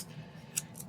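Scissors trim the top edge off a sheet of paper in a planner, giving one sharp, close snip near the middle, with a faint second cut just after it. No one speaks.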